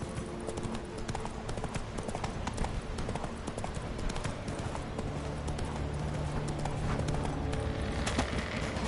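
Roach, the horse in The Witcher 3, gallops in a steady, dense run of hoofbeats that stays close and loud throughout, with wind and game ambience beneath and no clear talk.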